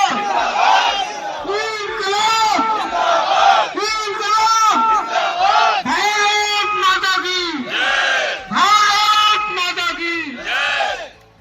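A rally crowd for a workers' movement loudly chants the Hindi slogan 'Karmachari Ekta Zindabad' in call-and-response bursts, many voices shouting together in a steady, rhythmic pattern that runs through the whole stretch.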